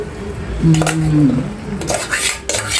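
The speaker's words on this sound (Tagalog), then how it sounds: "ilagay na natin ating pasta" Pasta going into a cooking pot for spaghetti with ground pork, followed by mixing: metal utensils clink and scrape against the pot in close, clattering bursts.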